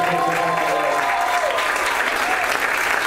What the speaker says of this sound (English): how about that round of applause for Matt and for Patrick